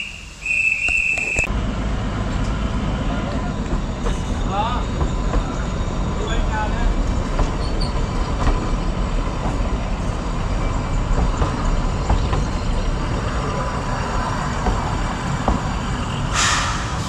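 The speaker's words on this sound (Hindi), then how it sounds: "आपको डिपार्चर दिखाते हैं हिमदर्शन एक्सप्रेस का।" The Himdarshan Express on the Kalka–Shimla Railway pulling out of Barog station, a continuous loud rolling rumble of carriages heard close by for the whole stretch, with a brief beep at the start and some voices faintly underneath.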